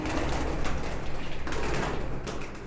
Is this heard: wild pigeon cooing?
yes